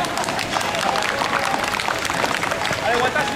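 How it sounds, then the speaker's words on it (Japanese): Scattered audience applause at a live show at Shima Spain Village's Parque España theme park, a dense wash of clapping beneath a performer talking over it. "拍手をお願いします"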